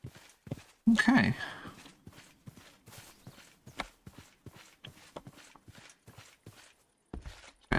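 Video-game horse hooves from a Minecraft modpack clip-clop in a steady series of sharp, close knocks, with a brief louder burst near the start and no talking.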